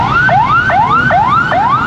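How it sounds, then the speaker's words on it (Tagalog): An ambulance siren wails along a street in Gen. Trias, Cavite, Philippines, near Walter Mart, sweeping upward in four loud, evenly spaced rising cycles over low traffic rumble. "Ambulansya."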